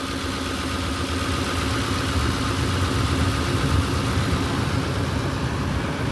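A truck engine idles steadily up close with no talk, its even rumble rising slightly as the cooling fan kicks in; the truck has a history of overheating.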